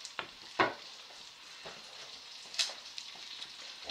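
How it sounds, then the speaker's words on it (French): Three sausages browning in a frying pan, a steady low sizzle broken by a few louder crackles and spits, close up with no talking. "Donc tu commences par faire revenir tes 3 saucisses"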